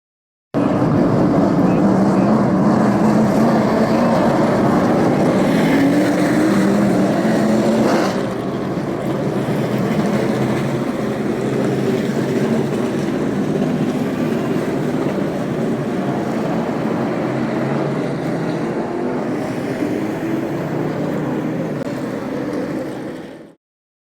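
An Outlaw Super Late Model race car circles a track, its engine a loud sustained roar that eases slightly partway through and then holds steady before cutting off at the end.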